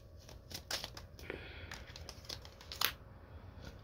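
Tarot cards are shuffled with a run of soft, quick papery riffles and snaps, close and fairly quiet, with a couple of sharper bursts midway and no talking.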